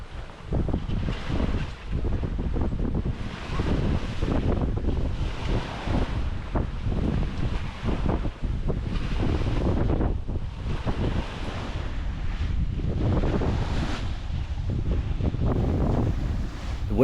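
Strong wind buffets the microphone while waves slosh and surge around a heavy 20,000-pound sailboat beam reaching along the coast near hull speed, a continuous loud roar with rhythmic swells of water.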